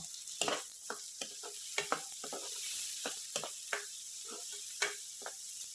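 Carrots and mixed vegetables stir-fried for restaurant-style veg fried rice, with a steady sizzle under repeated sharp scrapes and clanks of a spatula in the pan, close and fairly quiet, no talking.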